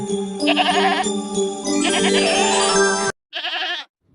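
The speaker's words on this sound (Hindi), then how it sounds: "यह तो बकरी के चिल्लाने की आवाज है" A goat bleats loudly in long wavering cries, then a short pause before one more brief bleat.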